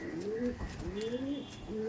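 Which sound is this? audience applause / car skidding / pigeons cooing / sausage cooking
pigeons cooing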